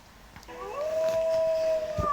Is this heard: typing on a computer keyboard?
no